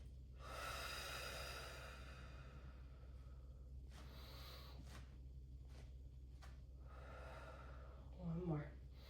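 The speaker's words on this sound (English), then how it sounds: "We'll take 3 deep breaths here." Slow, deep breaths during a Pilates stretch, two or three long airy inhales and exhales, soft and close, with a brief snort-like sound near the end.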